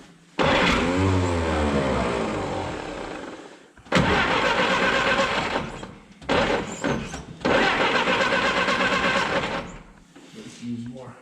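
Engine of a 1955 Jeep CJ5, choked, cranking and catching with a loud, rough roar, then stumbling and restarting in several uneven surges, with a voice heard near the end.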